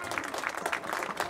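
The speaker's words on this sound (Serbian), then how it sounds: "Veliki aplauz za Kasiju i Branu Mukića!" Brief, steady crowd applause at a harness race finish greets winners Kasija and driver Brana Mukić, a dense patter of many hands from a distant grandstand.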